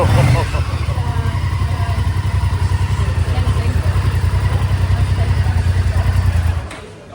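A classic motorcycle at a vintage bike workshop starts up and runs at a steady, loud, throbbing idle close by, then cuts off sharply near the end.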